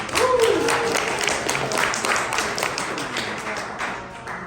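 A small audience at a startup pitch event claps for the next presenter, scattered individual claps forming a light, uneven patter that thins out toward the end, with a brief voice at the start.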